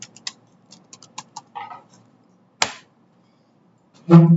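Keys tap on a computer keyboard while a CV is edited in MS Word: light scattered clicks, then a short quick run, a single sharp snap and a louder clatter at the end, close up with no speech.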